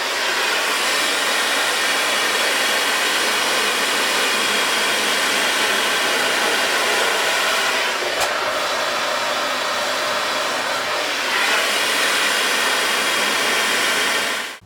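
A Dyson hair dryer blows a steady, loud roar at close range while drying hair, holding an even whoosh for the whole stretch with only slight shifts in pitch as it moves.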